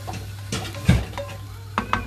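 Roasted masala is stirred into chicken liver in a pan, with scraping strokes and light metallic clinks of a spoon over a soft sizzle, all within about two seconds.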